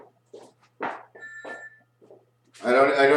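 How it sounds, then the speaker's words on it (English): A telephone rings with a brief electronic bell tone between stretches of talk, followed by a loud, sustained harmonic tone near the end. "The phone rings."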